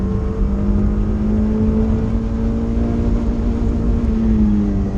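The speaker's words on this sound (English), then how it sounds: "Bouncing off the rev limiter so I know I can change up to third." A Mazda MX5 hillclimb racer held at full throttle on the rev limiter out of a hairpin at Wiscombe Park, a loud steady buzzing engine drone that stays pinned and bouncing at the limit throughout.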